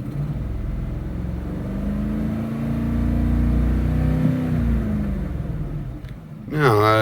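A high-mileage 2007 Ford F-150 engine rises from idle into a steady rev, holds a droning rumble, then drops back, with someone speaking briefly at the end.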